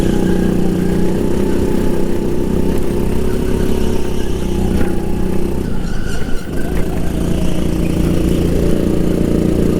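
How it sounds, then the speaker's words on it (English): A Sodi RX-8 rental go-kart with a 270cc engine, racing on a track, drones loudly and steadily throughout, its engine note holding fairly even with a brief dip in the middle. "the Sodi RX-8. Same 270cc engine that I was used to"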